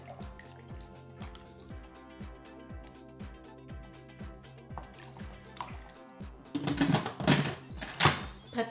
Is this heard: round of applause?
no